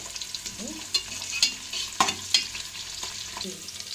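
Cashews frying in hot ghee for a homemade biryani, a steady soft sizzle with scattered spoon scrapes and clinks against the pan, close and moderately quiet, no talk.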